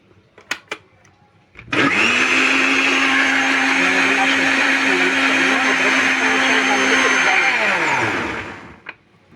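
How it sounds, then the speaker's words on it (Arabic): An electric kitchen blender pureeing cooked chard with a ladle of broth, a loud steady whirring drone that starts abruptly after a few clicks and runs for several seconds before spinning down. "هضرب بقى السلق في الخلاط"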